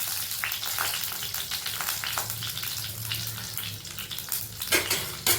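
Mustard seeds, cinnamon, cloves and dried red chillies splutter and crackle in hot oil, with a steady sizzle and scattered sharp pops, close and fairly loud, with no voices.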